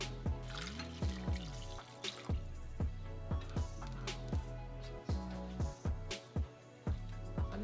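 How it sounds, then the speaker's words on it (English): Water pours into a pot of birria ingredients, producing close, soft glugs and drips that repeat in an uneven pattern over a steady low trickle, with no talking. "And 2 cups of water"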